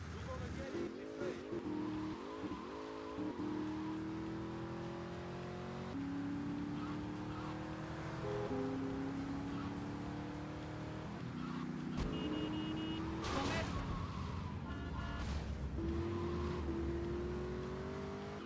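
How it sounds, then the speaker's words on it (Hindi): Car engine in GTA Vice City, driven at full speed, with a steady revving drone that rises in pitch through the gears, along with tire squeals and skids. Someone talks over it throughout. "तो यार फुल स्पीड में जा रही है गाड़ी"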